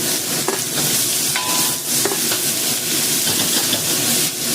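Ginger, scallion and chili stir-fried in a hot wok for a crab dish, with a steady loud sizzle and hiss under repeated scraping and tossing of the spatula, close and continuous.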